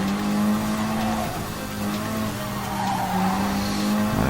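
A race car in a PlayStation racing game holds a steady engine drone at high speed, with a sustained tonal whine and brief tire squeal, running continuously with no speech.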